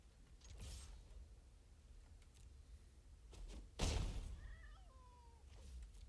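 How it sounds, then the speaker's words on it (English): A house cat meows faintly in a quiet room, a short rising call followed by a softer trailing mew, over low background rumble and a muffled thump. "That cat is annoying."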